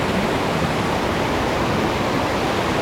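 Wewalwatta waterfall roars as a steady, loud, close wash of falling water with no voices over it.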